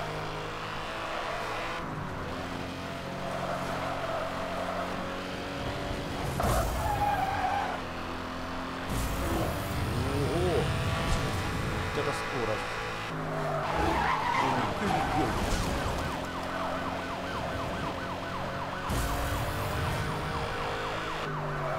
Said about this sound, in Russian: О, дрифт отлично заходит.